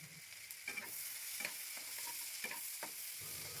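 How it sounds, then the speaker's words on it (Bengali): Chopped onion frying in butter and oil, a continuous bright sizzle broken by repeated spatula scrapes as it is stirred, close but quiet. "বাটারটা গলে গেছে, এবার এর মধ্যে বড় সাইজের একটা পেঁয়াজ কুচনো দিয়ে দিলাম"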